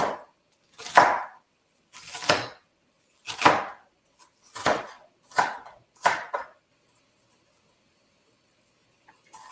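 A knife chops through large, freezer-chilled onions in six crisp, evenly spaced cuts on a board while preparing Thanksgiving dinner, each a close, sharp crunch with a short tail, followed by near silence.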